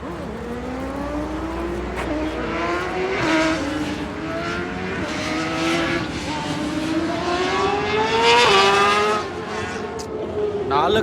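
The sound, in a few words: BMW car engine sound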